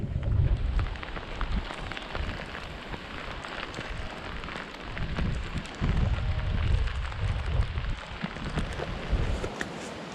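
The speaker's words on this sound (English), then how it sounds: "First hour was, well, hour and a bit was pretty heavy rain" Heavy rain pours on a Yorkshire Dales walk, a dense continuous hiss with rumbling gusts and patter on nearby surfaces, loud and unbroken throughout.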